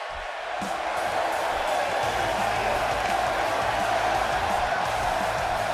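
A steady roar of an arena crowd cheers throughout a WWE 2K18 wrestling match, a dense continuous wash of noise with no clear breaks or individual voices.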